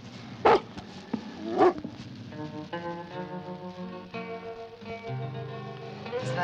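A dog barks in the moor country near Dartmoor, two sharp barks early on, then orchestral film music with sustained tones takes over.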